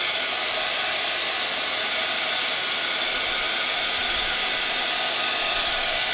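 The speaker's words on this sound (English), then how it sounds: "what I'm going to do now is hit it with a heat gun" Heat gun blowing hot air over mixed-media sticker paper, a loud, steady roaring whoosh held close and unbroken throughout.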